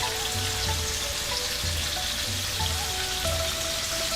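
Pork sears in a hot pan over high heat, giving a steady, dense sizzle with a crackling hiss that holds at an even level throughout, with no talking.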